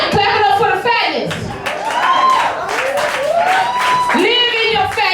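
A comedy show audience claps and applauds loudly and continuously, with someone talking over the clapping throughout.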